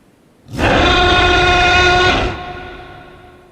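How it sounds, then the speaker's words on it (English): A Ceratosaurus dinosaur lets out a single deafening roar near a waterfall, a loud, sustained bellow lasting nearly two seconds before dropping off into a fading tail. "He lets out a deafening roar to attract any other animals."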